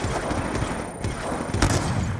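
Gunfire in Call of Duty Black Ops 2, a loud, dense fusillade of rapid shots crackling over a rumbling battlefield background, with a sharper burst near the end.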